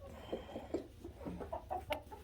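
A broody hen clucks in a run of short, close, throaty notes, with a few sharper calls near the end and steady farmyard background underneath.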